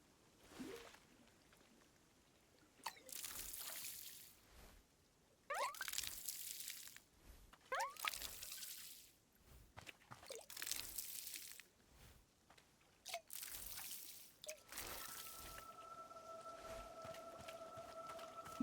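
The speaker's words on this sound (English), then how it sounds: "So I have to water now." Plants are watered in the cozy video game Wanderstop, with bursts of splashing, pouring water that start and stop repeatedly. Faint dripping fills the gaps, and a soft sustained tone enters near the end.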